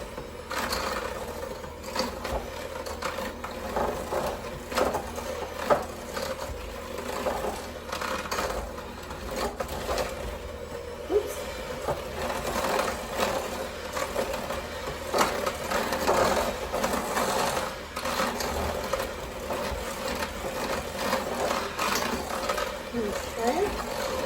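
A small blender whirs steadily through cookie dough mixture, a continuous mechanical buzz that runs the whole time with uneven grinding texture while a person talks over it.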